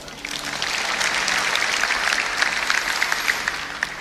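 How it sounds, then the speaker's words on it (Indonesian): A church congregation applauding during a service, steady dense clapping from many hands close by, holding at an even level for a few seconds. "Anda boleh tepuk tangan ini"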